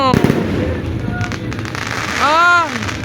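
New Year fireworks pop and crackle continuously in a dense, layered barrage, loud and nearby, while people chat and exclaim over the bursts.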